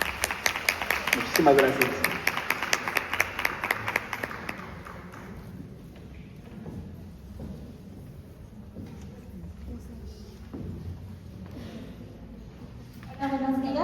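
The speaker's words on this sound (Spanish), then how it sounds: "Nuevamente, un fuerte aplauso para recibirlos" Audience applause at a conference on the rights and inclusion of people with autism spectrum disorder, with dense clapping for several seconds that fades into a quiet room where a person speaks.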